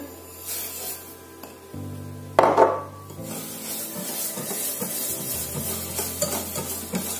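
Mashed banana batter with added sugar is stirred in a bowl for cornmeal-free banana fritters, producing a continuous close, wet scraping and swishing, with one louder knock partway through and no voices.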